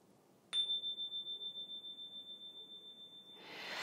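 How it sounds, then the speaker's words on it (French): A single Energy Chime, a small percussion instrument, is struck once and rings out as a clear, sustained pure tone that decays slowly over about three seconds in a quiet room. "vous avez un Energy Chime."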